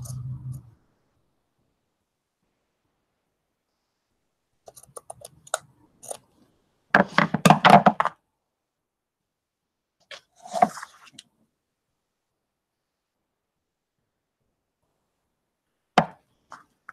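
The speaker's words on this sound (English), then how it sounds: "So I am going to cut this right here" A blade cuts corrugated cardboard in a single short rasping stroke of about a second, surrounded by near silence and a few faint clicks and handling taps.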